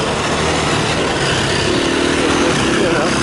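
A dirt bike on a trail ride after a thunderstorm near Cedar City, engine held at high revs in a loud, continuous buzzing drone, close up with wind noise.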